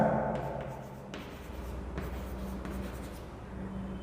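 Pen or pencil writing a measurement reading during a vernier caliper lesson, a steady scratchy scribble close up that runs without a break, with no talk over it.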